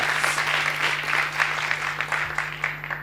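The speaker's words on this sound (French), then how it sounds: "On va les applaudir également très fort." A French radio show audience applauds its guests at an outdoor broadcast, a steady wash of clapping over a low constant hum.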